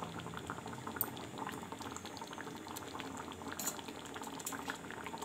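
Vegetable and butter bean gravy simmers on a medium flame, giving a continuous dense bubbling and popping with small spitting pops, steady and close, with no talking.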